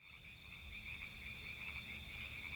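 Frogs croak at night in a continuous, close, buzzing chorus that stays level and unbroken throughout, with no voices over it.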